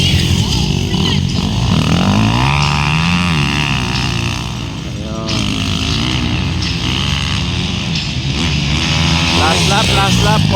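Prolites-class racing motorcycles roar past loudly on a race circuit in Botolan, Zambales, engines rising and falling in pitch as the bikes accelerate, with an announcer talking over them throughout.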